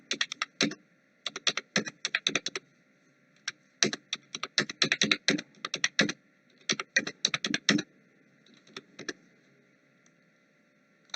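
Rapid, irregular keystrokes on a computer keyboard as random numbers are entered into an Excel spreadsheet, coming in clustered bursts with short pauses, close and clear with no talking.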